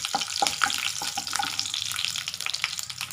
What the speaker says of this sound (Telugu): కాగుతున్న ఆయిల్లోకి తాలింపు గింజలు వేసేద్దాము.